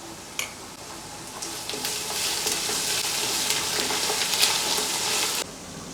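Onions sizzle steadily in a pan along with ginger and garlic paste, a broad continuous frying hiss with occasional stirring scrapes, close and fairly loud, no voices.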